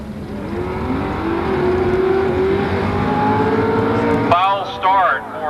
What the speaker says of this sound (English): 2 427 Chevrolets getting set to go head-to-head right now